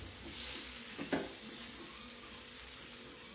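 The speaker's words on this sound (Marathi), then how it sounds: "वांग आणि बटाटा कापून घेतलेला ते ह्याच्यामध्ये सोडून द्यायचं आहे आणि हे पण आपल्याला तेलावर छान परतून घ्यायचे बघा" Cut eggplant and potato pieces sauté in oil, a soft low sizzle with a brief stirring scrape partway through, quiet and close with no voices.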